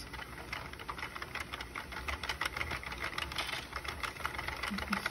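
A Sentro knitting machine being cranked to cast on, a steady fast run of mechanical clicking and clattering throughout, close but fairly quiet with no talking.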